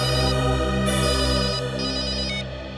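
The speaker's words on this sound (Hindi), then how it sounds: "आद्या, पता चल गया फोन कौन कर रहा था?" A phone ringtone plays loudly and steadily, a bright electronic melody with a strong low hum beneath it, fading slightly near the end.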